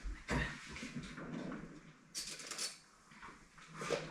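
A spoon knocks against dishes in a home kitchen, giving a few quiet clinks and scrapes at close range, spaced over several seconds against low background noise.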